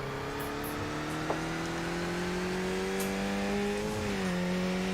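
Race car at a Skip Barber racing school event, its engine droning loud and steady as it is pushed hard around the track, pitch climbing then dropping briefly near the end as the driver shifts, with a faint click partway through.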